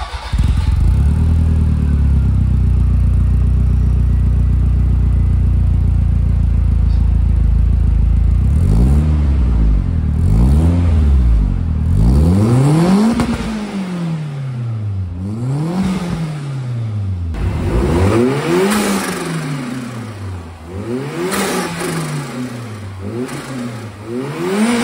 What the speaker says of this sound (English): You get a bit more induction noise up front, with some cool turbo noises, of course.